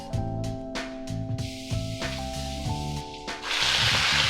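Drained chicken pieces hit hot oil with ginger slices and Sichuan peppercorns, bursting into a loud, steady sizzle near the end after a stretch of background music.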